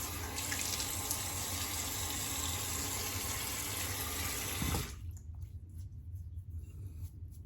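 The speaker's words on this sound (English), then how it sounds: "Rinse off real quick and see how it is." Running tap water pours into a sink for a rinse after a straight razor shave, a loud steady close gush that cuts off abruptly near the end, followed by soft drips and splashes.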